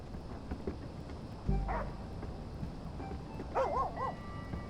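A dog barks in the video game Oxenfree 2, a single short yelp followed a couple of seconds later by a quick burst of higher barks, faint against a steady ambient background.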